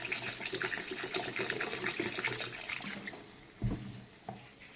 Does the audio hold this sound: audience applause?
no